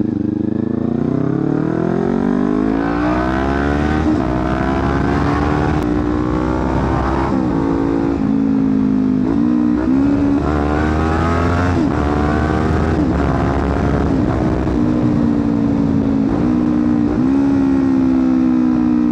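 A Kawasaki Ninja 400 inline-two motorcycle engine revs loudly and up close, pitch rising and falling through repeated throttle blips with a steady rumbling undertone throughout.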